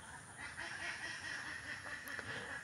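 Ducks on a duck farm pond give faint, distant honking quacks in a loose, overlapping chorus that continues for a few seconds.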